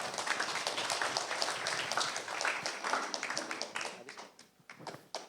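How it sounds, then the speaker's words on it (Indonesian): An audience at a community energy talk gives a burst of clapping that thins and fades toward the end. "Tepuk tangan dulu dong buat Pak Nanang"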